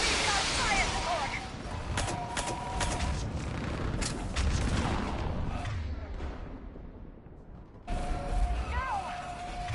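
Gunfire and artillery fire support in the sci-fi shooter Mass Effect 3: loud, dense bursts of shots and heavy booms rolling through a battle, thinning out briefly before another burst, with voices shouting over it.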